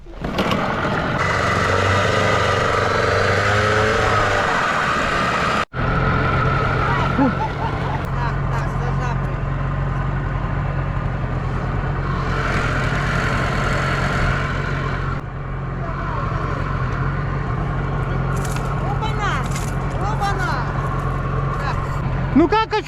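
A motor boat, a roughly seven-metre craft out on the water on a fishing trip, drones steadily and loudly throughout with low engine hum, while people talk over it.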